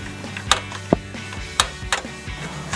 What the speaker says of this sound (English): Use an extension. Try and get the bolt started. I'm going to drive it in and pull down at the same time.